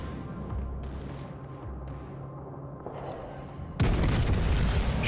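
Warship guns firing in World of Warships: Legends as a battleship pushes south and its secondary batteries engage a destroyer: a steady rumbling battle din, then a louder, dense burst of gunfire that holds to the end.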